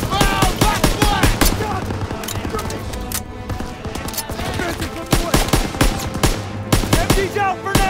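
Rapid machine-gun fire from a German MG pillbox rattles through a Call of Duty WW2 battle on Hill 493, dense repeated bursts mixed with other gunfire and battle noise, with soldiers' voices shouting over it.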